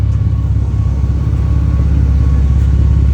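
A garbage truck pulls up close by, its engine producing a loud, steady low rumble that fills the clip without letup, with no voices.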